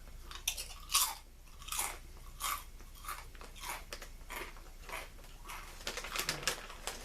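Lay's Crunch Tators potato chips crunched between the teeth, a run of sharp, close bites and chewing crackles in an uneven rhythm with no talking.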